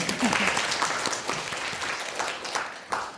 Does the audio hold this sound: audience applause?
yes